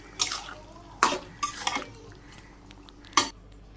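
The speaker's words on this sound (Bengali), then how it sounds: "তো নেড়ে চেড়ে মিশিয়ে দিল, নেড়ে চেড়ে মিশিয়ে আমি নামিয়ে নিব।" A pot of curry stirred with a utensil after cumin and garam masala go in, giving several close, sharp metallic scrapes and clinks against the pot in an irregular rhythm, separated by short quiet gaps.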